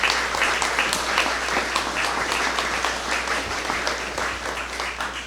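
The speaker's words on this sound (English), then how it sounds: "let's give them a round of applause." A crowd at a community recreation center ribbon cutting gives a loud, sustained round of applause for young artists, thick continuous clapping close to the microphone with no speech.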